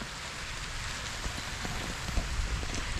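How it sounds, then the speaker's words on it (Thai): Steady rain falling, a dense hiss with scattered droplet taps on a surface, moderately loud and unbroken. "ฝนมาแล้ว"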